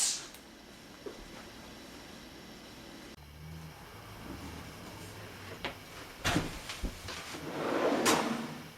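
A potato drawer in a kitchen pantry slides open with a soft rumble, a few clicks and knocks, and then a louder scraping rush as it pulls out, heard alone in a quiet room.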